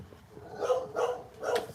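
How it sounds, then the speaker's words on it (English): Dogs barking at another dog out front of a house, three loud barks about a quarter second apart to half a second apart, fairly close and rising over a low background hum, with no talking. "there's a dog out front. They're going to keep barking until the dog walks away"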